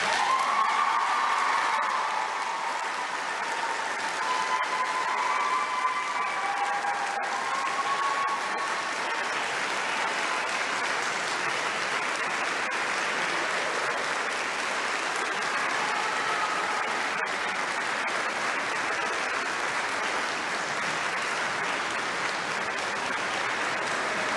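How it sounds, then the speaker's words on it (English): At a summer nursing pinning ceremony, an audience claps in sustained, even applause for more than twenty seconds, a dense crowd sound from a large room with no speech over it. "Please join me in applause to congratulate Sarah Dobbett."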